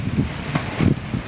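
Outdoor wind in open countryside near grazing goats, gusting microphone buffeting in low rumbling bursts with a soft hiss, close and steady over a brief moment; no voices.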